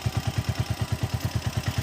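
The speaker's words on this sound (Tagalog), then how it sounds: "yung partner ko ito. Yung motor ko." A motorcycle engine idles close by in a mountain area of Iloilo, a fast, even low thumping that repeats steadily throughout with no voices.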